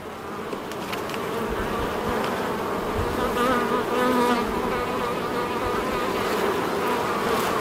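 Honey bees buzzing around an open hive during a beehive inspection: a dense, steady drone of many wings, close and continuous throughout, with no talking.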